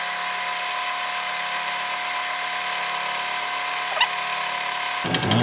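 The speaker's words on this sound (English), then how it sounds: "So I'm just going to drill in until we get there." A machine drill bores into a throttle cable swivel in a workshop, holding a steady high-pitched whine that changes abruptly near the end, with no talking.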